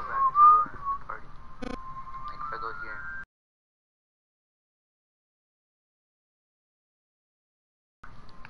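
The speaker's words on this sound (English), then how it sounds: "Stop whistling." A person whistles a wavering tune for about three seconds, close and fairly loud, with a brief sharp click partway through, then near silence before a faint whistle returns at the end. It comes during casual play of Kingdom Hearts Final Mix.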